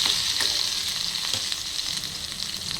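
Green chili and crushed ginger paste sizzles steadily in a pan, a dense frying hiss running throughout, with a few soft stirring scrapes close by; no voices.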